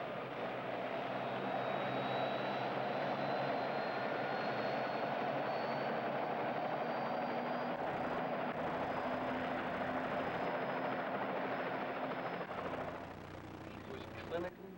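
A steady, loud helicopter engine roar with a rotor-like drone holds throughout, easing off slightly near the end; faint voices may sit beneath it.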